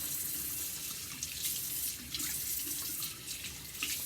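Hot water runs steadily from a bathroom tap into a sink before face washing, a close, continuous hiss and splash with no voices.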